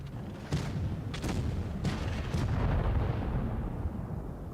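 A tank's ammo rack explodes in the World of Tanks Blitz video game, with several booming blasts and cracks over a continuous rumbling battle din.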